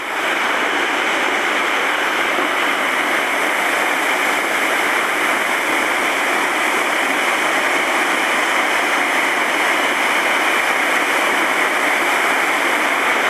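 Dag's Falls on the Great Dividing Range roars as a steady, loud, unbroken wash of falling water, heard close up in misty cloud with no voices.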